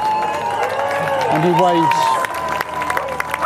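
A large crowd in Hostage Square reacts to a released Israeli hostage appearing on screen, with a loud swell of cheering, shouts and clapping and a broadcast voice nearby, over a steady background hum.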